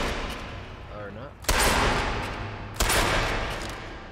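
Sniper rifle shots in the Sniper Elite V2 video game, two loud, sharp cracks about 1.3 seconds apart, each followed by a long decaying echo, with a brief voice before the first.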